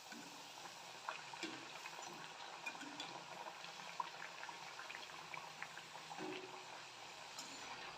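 Maddur vadas deep-fry in hot oil, giving a quiet, continuous bubbling crackle with faint scattered pops.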